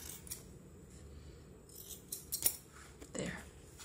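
Scissors cutting thread while hand-sewing book signatures in a crisscross pattern, a few faint soft snips and small clicks amid quiet rustling.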